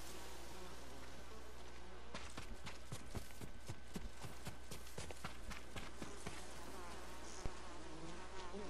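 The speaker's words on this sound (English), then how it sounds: "Noble honeybees, he defends our hives and queens." Honeybees buzz continuously around hives in the video game Ghost of Tsushima, a steady insect drone joined midway by a run of rhythmic hoof-like clopping.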